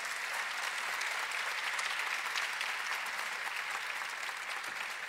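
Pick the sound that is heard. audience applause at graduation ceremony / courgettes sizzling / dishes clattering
audience applause at graduation ceremony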